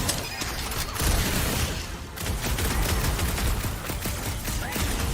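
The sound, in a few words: gunfire in Guardians of the Galaxy video game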